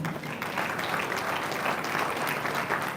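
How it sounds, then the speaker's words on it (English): An audience at a university town hall meeting breaks into dense, continuous applause, a steady roar of clapping that stays fairly loud and even for three seconds, with no voices on top. "please can we welcome him with a round of applause?"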